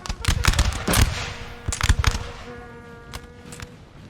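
Massed musket volleys and artillery fire crackle in a Napoleonic-era Prussia versus France battle in the Total War game, sharp irregular bursts of shots near and far, with lingering tones between volleys.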